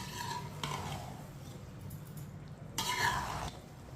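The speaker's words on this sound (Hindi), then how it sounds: "चावलों को हल्के हाथों से मिक्स करें" Zarda mutanjan, a sweet rice dish, being gently mixed in a pot, giving soft scraping and rubbing sounds in two short bursts over a quiet kitchen background.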